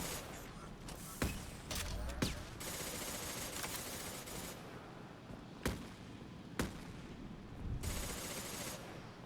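Enemy gunfire in the video game Mass Effect 2, with several sharp shots cracking at irregular intervals over a constant noisy battle background, moderately loud and without talk.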